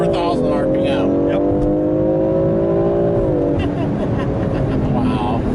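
Launch-control start in a 2021 BMW X4 M sports SUV with a torque-converter automatic, heard from inside the cabin: a loud, steady engine drone that holds, then swells as revs climb, with talk over it.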